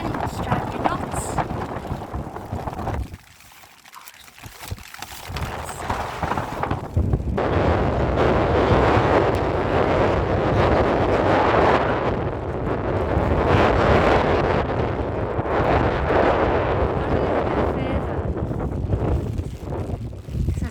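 Strong wind blowing at Waterloo Beach in Liverpool, roaring across the microphone in a loud, steady rush, broken by a short lull near the start, with a voice talking under it.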